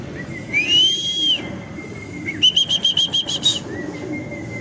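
A homing pigeon arrives at the loft with bursts of wing flapping, mixed with several clear whistles, one a rapid pulsing run, over quiet outdoor background.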